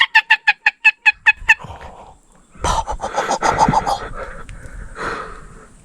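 A hunter imitates a turkey hen with his own voice, giving a quick series of about eight sharp, evenly spaced yelps, then a pause followed by rougher, excited cackling and clucking calls, loud and close.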